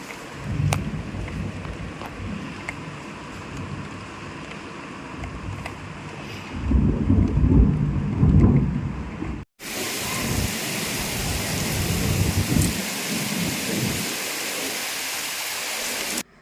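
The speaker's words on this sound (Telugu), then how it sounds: "అంటే అంత స్పీడ్గా పడుతుందన్నమాట వర్షం అనేది" Heavy rain pouring fast onto a balcony, a dense steady hiss with gusts of wind buffeting the microphone and a brief cut midway before the downpour continues just as loud.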